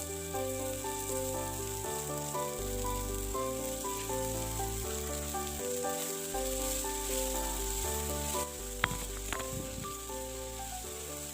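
Chopped doron (leucas) greens frying in a pan, a soft continuous sizzle under a steady melodic music bed, with a few brief clinks near the end.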